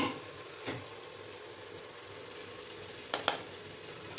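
Onion, ginger, garlic and tomatoes frying for goat leg curry, a soft steady sizzle with a few brief scraping stir clatters near the start and near the end, no voices.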